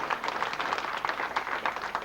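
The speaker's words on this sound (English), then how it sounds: "That applause doesn't deserve Vishal's dance." Guests at a 21st birthday party clapping, a steady dense patter of many hands sustained throughout, moderately close, with no voices over it.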